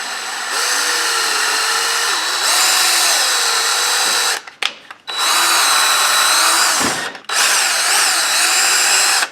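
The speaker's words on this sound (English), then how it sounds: "I'm going to drill this thing out." A power drill whines loudly in long bursts, drilling out a valve on a Case 830 Comfort King tractor, its pitch dipping and rising under load, with brief pauses between the runs.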